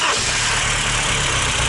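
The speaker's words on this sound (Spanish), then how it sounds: "Nos van a arrancar el coche," A BMW M3 in Henna Red running just after start-up, its engine settled into a steady, loud idle heard up close, with a constant low rumble and no voices.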